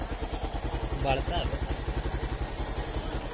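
A newly bought motorcycle runs with a steady, close-up engine throb and a regular pulsing beat throughout, while people talk over it.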